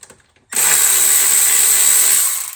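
A power tool spins up abruptly and whirs steadily for about two seconds while backing 10mm bolts out of a Toyota 2JZ engine cover, loud and close before winding down.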